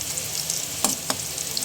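Homemade french fries made from fresh potatoes frying in hot oil, a dense, steady crackling sizzle heard up close with two brief louder pops, no voices.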